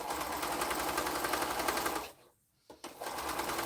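A sewing machine stitching quilt pieces together runs in a fast, steady mechanical chatter, close and loud, then pauses briefly before starting up again.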